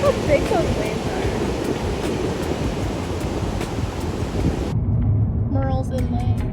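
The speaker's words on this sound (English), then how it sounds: "Look how big those waves are." Big ocean waves rolling in at Myrtle Beach, a steady broadband roar of surf mixed with wind buffeting the microphone, loud and continuous, with faint bird calls near the end.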